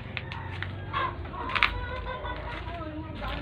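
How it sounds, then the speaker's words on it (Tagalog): Chickens cluck and murmur in a noisy yard of a small farm also keeping rabbits, ducks and goats, with scattered bird calls over a steady low rumble. "Nandito sa likod yung mga manok."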